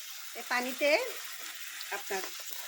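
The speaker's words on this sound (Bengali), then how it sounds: "একসাথে একটু ভাজা ভাজা হোক। দেখেন ভাজা ভাজা হয়ে গেছে। একটু সামান্য একটু পানি দিয়ে দিব।" Water splashes into frying masala for a pabda fish curry in a pan, setting off a steady, soft sizzling hiss while a voice murmurs briefly over it.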